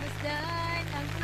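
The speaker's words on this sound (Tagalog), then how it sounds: "So naririnig yan yung ulan, napakalakas niyan." Heavy rain pours onto a camping tent at Lake Sebu, South Cotabato, a dense, continuous patter close by, with faint tonal sounds drifting underneath.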